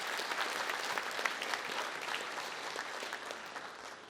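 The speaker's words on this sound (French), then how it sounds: "Sous vos applaudissements" Dense, steady applause from an audience at a national innovator hall of fame award ceremony fills the whole stretch, evenly loud and slightly easing toward the end, with no speech over it.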